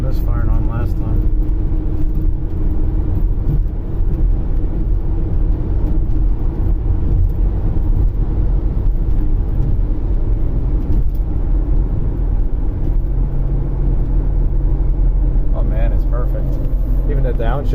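A 2001 BMW X5 3.0 with a misfire fault and catalyst-efficiency trouble climbs a hill, its engine a steady low rumble that carries on throughout under someone talking.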